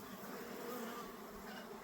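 A honey bee buzzes softly and steadily nearby, a continuous faint drone lasting the whole moment with no speech.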